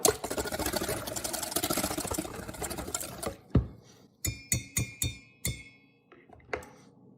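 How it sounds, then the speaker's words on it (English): Milk is whisked into gluten-free pancake batter in a bowl with a few seconds of fast, steady scraping and sloshing, then a run of separate clinks and taps against the bowl, close and fairly quiet. "we're going to add a cup of milk. Whisk that up again."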